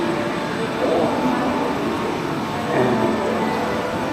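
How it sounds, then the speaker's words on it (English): An airport terminal train at Dallas Fort Worth Airport rumbles steadily nearby, its low hum and mechanical whine rising and falling slightly, with no talking. "we take the train on the right"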